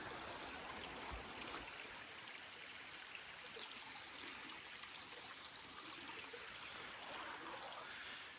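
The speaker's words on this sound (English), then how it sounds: "Got a river, as you can see." A river stream in Scotland flows steadily, a continuous broad rushing and trickling wash of water heard alone, fairly close and even in level throughout.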